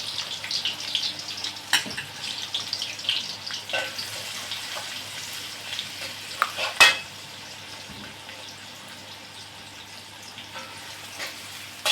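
A cup of chopped onion frying in a pan for shahi korma, a crackling sizzle with sharp pops and spatula scrapes that calms into a quieter steady hiss.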